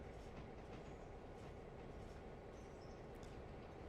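Train rolling along the tracks in the railway simulation game Railroader, a steady dense rumble of wheels and rail noise lasting throughout with faint clicking and a few brief high squeals, no voices.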